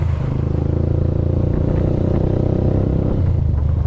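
Steady close motor rumble from an e-bike with a tricycle-like engine note, running continuously at an even level with slight clatter and no voices.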